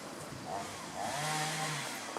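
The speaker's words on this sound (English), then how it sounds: "I have a neighbor down there with a chainsaw" A neighbour's chainsaw runs somewhere in the distance, a faint, steady engine drone with a brief rise in pitch, under outdoor wind noise.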